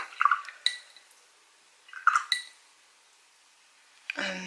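A paintbrush rinsed in a small water cup while painting a mini canvas, two short bursts of tapping and clinking against the container with light watery swishes, close and quiet, separated by silence, a brief shuffle at the end.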